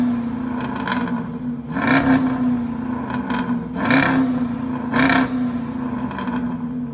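A V8 car engine growls at idle through its exhaust and is blipped three times, each rev surging up and dropping back, with a short pause between bursts.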